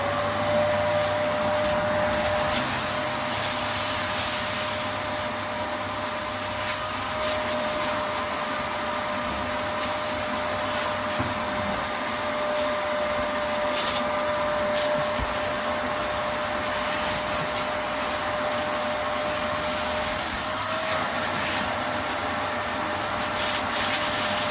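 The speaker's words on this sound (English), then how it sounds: "So I'm going to use a trusty vacuum to clean it all out." A vacuum cleaner runs steadily throughout, sucking debris out of an emptied saltwater aquarium tank, a continuous close, loud whine with a sustained tone and slight rubbing variations as the nozzle moves.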